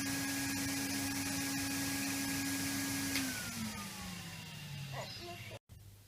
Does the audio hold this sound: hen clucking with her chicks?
no